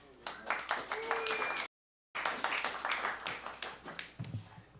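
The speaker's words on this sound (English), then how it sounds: "Please clap for Andrew McAnsh." An audience claps for a guest speaker at a lecture event. The rapid hand claps fall in a steady run, pause briefly, then resume, with voices mixed in near the end.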